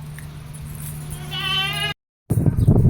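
A castrated Makhi Cheena goat, about six months old, gives a single quavering bleat over a steady low background hum, followed after a short break by louder, busier sound that may include talk.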